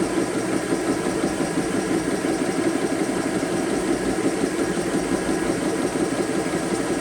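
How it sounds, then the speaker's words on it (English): Air compressor running steadily while filling 10 and 13 cubic inch buttstock air tanks for magfed paintball markers, a constant loud mechanical drone with vibration and no pauses. "filling up your air tank with the compressor"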